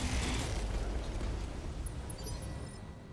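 A mech in BattleTech fires all its weapons at a heavy sniper turret, a dense roaring barrage of blasts and rumble throughout, gradually easing, with faint high electronic chirps near the end.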